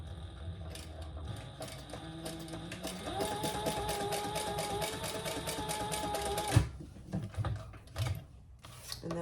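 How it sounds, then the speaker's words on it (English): A sewing machine top-stitches the ends of a leather waist pack in a steady rapid mechanical run, then stops with a few separate clicks and knocks of the machine. "So we're going to top stitch each of those ends."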